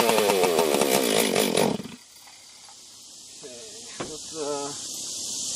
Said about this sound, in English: Let's see how many pulls it takes on choke.